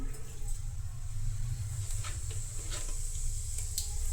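Cumin seeds sizzle in a small amount of hot oil in a pan, a steady close crackling hiss with occasional brighter pops, continuous throughout with no talking.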